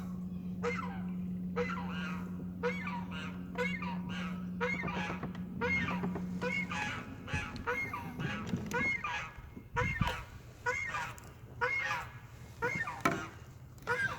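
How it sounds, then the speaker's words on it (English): Repeated loud honking of geese on a lake, heard from a fishing boat, many calls overlapping in irregular bursts, with a low steady hum underneath early on. "See the wildlife out here, the geese."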